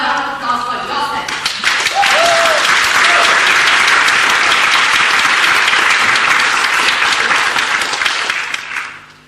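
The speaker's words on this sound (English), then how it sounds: "so you all deserve a round of applause for yourself" An audience at a Toastmasters tall tales championship bursts into loud, dense applause that builds quickly, holds steady for several seconds and then fades, following a brief moment of talk.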